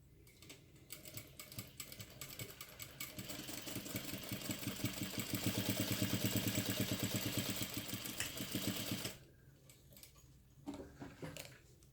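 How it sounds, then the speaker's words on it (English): A sewing machine stitches a crossbody bag gusset seam with a 1/2 inch seam allowance through fabric layered with fleece: a close, rapid mechanical chatter that builds and speeds up, holds steady, then stops abruptly, leaving quieter handling noises. "And then sew along here at 1/2 inch seam allowance."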